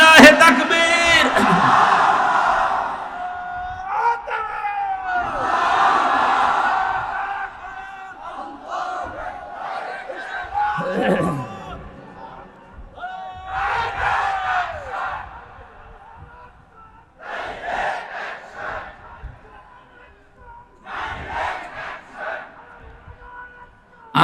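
A large crowd at an Islamic waz sermon chants the takbir, Allahu Akbar, in unison, several loud, rhythmic rounds of massed shouting separated by brief pauses.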